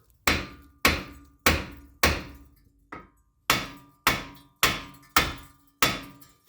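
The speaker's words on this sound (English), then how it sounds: "I'm going to take a hammer. I'm going to give them a couple taps." Hammer taps on brake rotor bolts of a 2011 Ford Fusion during a front brake job: about ten sharp metallic strikes at a steady, unhurried pace, each ringing briefly and close by, with no talking.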